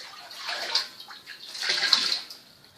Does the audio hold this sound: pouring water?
yes